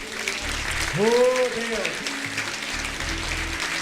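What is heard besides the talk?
congregation applauding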